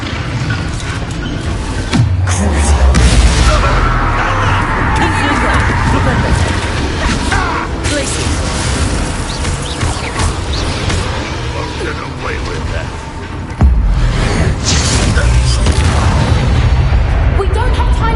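Confringo spell explosions in the video game Hogwarts Legacy, loud booming blasts and bursts over a dense battle soundscape, with one heavy hit standing out near the end.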